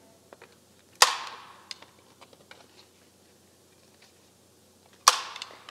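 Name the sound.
stapling a paper strip headband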